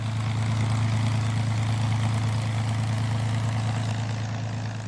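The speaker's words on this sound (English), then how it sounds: "There's no sound like the P-51." Steady, loud drone of a P-51 Mustang propeller engine, a deep throbbing hum that holds constant throughout.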